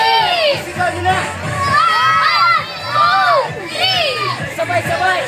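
Children and guests at a first birthday party shout and cheer loudly together in a sustained, rising chorus of voices, close by and crowded.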